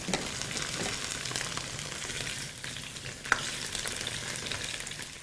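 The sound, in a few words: potatoes frying in very hot oil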